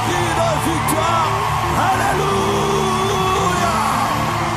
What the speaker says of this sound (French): pousse les cris de joie, pousse les cris de victoire